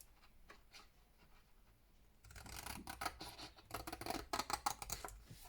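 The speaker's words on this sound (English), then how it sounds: "There's just a little trim I need to do there." Scissors give a small trim to soft, fluffy craft material, opening with quiet rustling and then a run of close, crisp snips and scratchy cuts that grow louder and more rapid toward the end, with no talking.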